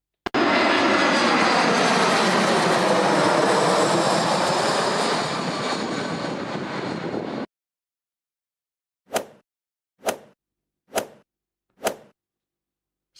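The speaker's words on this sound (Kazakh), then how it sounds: "Ғажап, бұл ұшақ." Airplane engine roaring loud and steady for about seven seconds, slowly easing in level, then cutting to silence before four brief evenly spaced whooshes.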